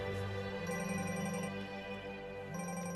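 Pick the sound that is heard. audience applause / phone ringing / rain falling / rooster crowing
phone ringing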